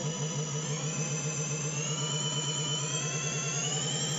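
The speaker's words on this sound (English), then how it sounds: "I will power the pump with my trusty drill just" A scroll vacuum pump being restored runs under power from a handheld drill, giving a steady, loud mechanical whir with a constant hum that holds evenly throughout, with no talking.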